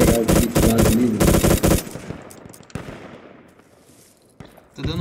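An MG34 machine gun fires in the video game Project Reality, two loud rapid bursts of close gunfire followed by fading echoes, scattered distant shots and a final sharp crack.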